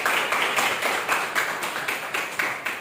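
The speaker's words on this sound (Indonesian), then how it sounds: "Tepuk tangan dulu untuk Adila" A classroom of students claps for a classmate named Adila. The hands beat together in a brisk, even rhythm, several claps per second, fairly loud and close.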